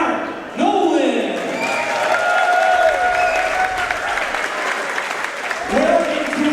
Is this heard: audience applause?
yes